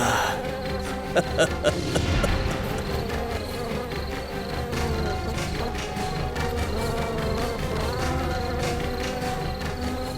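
A dense, steady swarm of bees buzzes continuously throughout, a thick droning hum layered with background music and no pauses.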